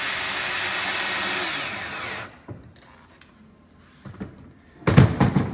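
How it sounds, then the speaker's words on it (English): A power drill drives a screw into a wooden Adirondack chair, a steady whirring run for about two seconds that cuts off, followed by quiet handling knocks and a louder clatter near the end. "being careful not to over tighten the screw."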